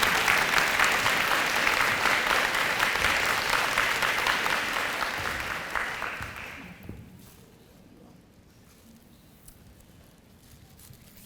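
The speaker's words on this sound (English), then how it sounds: "give her a hand clap of praise for her beautiful, beautiful," Audience applause at a nursing school pinning ceremony: a dense, steady clapping from a large crowd that holds for several seconds, then fades away, leaving a quiet room with faint shuffling.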